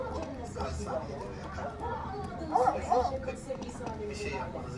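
Several dogs bark and yip in a game soundtrack while a person talks over them; barking rises briefly in the middle.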